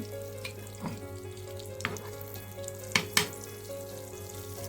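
Keema paratha fries in a pan with a soft, steady sizzle over a constant low hum, broken by a few sharp clinks and scrapes.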